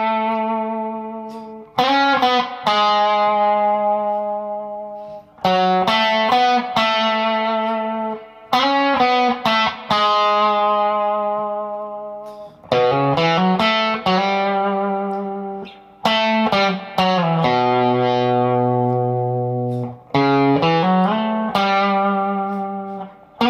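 Electric guitar with effects plays the riff of You Say by Two Feet in repeated phrases of slides and ringing sustained notes. Short gaps separate the phrases, and the guitar sounds close and clear with no talking.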